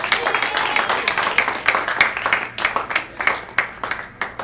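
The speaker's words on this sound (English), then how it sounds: "let's definitely clap it up for those first two artists." Audience clapping at a live music show, sustained dense applause with sharp individual claps throughout, fairly close and steady before thinning slightly toward the end.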